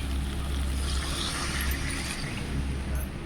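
A glass of water is poured into a pan of frying egg and potato curry, giving a steady, close rushing hiss that runs unbroken from start to finish.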